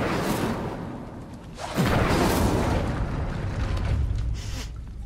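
An Incendio fire spell is cast in Hogwarts Legacy, giving a loud whooshing burst that swells into a sustained roaring rush of flame, with no talk.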